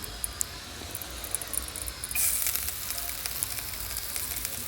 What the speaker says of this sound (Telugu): ఆ తాలింపులో వేసుకోవాలి అన్నీ